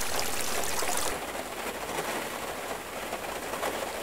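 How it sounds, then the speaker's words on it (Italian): Water falls on roofs and canopies as a broad, steady hiss of rain-like spatter, loud at first and then easing slightly but continuing without pause. "Ancora rumori d'acqua su tetti, tettoie."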